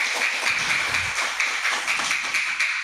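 Applause from an audience at an Islamic religious gathering, a steady wash of many hands clapping at moderate distance, continuous and even, with no talk over it.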